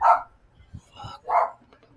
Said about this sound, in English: somebody want to shut that dog up